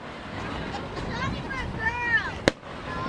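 Large Fourth of July fireworks at Bethpage Ballpark boom in the distance. A single sharp, distant bang cracks out amid excited voices and cheering.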